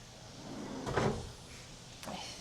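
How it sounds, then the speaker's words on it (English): A drawer in a Maui vacation rental kitchen slides open and shuts, a soft rumbling bump followed by a lighter second knock about a second later, close by in a quiet room. "drawers."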